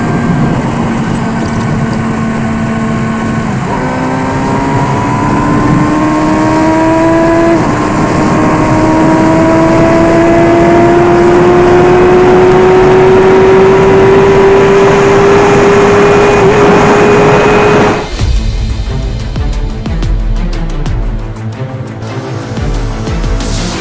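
A loud, close car engine with an open exhaust drones and revs, its pitch climbing steadily as it accelerates toward 130, then shifting abruptly near the end.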